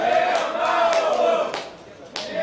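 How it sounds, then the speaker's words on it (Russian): Hockey fans in the arena chant the team name Metallurg in a loud, rhythmic, sustained chorus during a Metallurg Magnitogorsk match against Irtysh-2. "Сейчас послушайте, как болельщики скандируют «Металлург, Металлург»."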